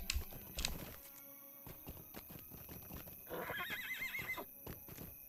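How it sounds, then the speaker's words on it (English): Horse neighing and whinnying in the Lord of the Rings Online video game, a loud whinny near the start and another rising trill mid-clip, with steady clip-clop hoofbeats running throughout. "It's weird to jump with the horse."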